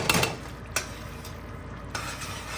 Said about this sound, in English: Add all the powder. Make sure you don't increase the flame, and let's mix it really well.